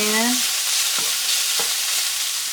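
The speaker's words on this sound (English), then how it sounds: "I'm going to add about a half a teaspoon of garlic powder." Garlic powder being stirred into sloppy joe meat sizzling in a pan, with a steady frying hiss and a few scraping spoon strokes, close and alone.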